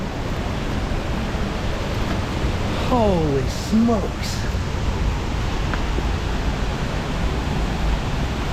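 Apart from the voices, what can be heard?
loud rushing waterfall, Cincinnati Freedom Falls, Little Cow Creek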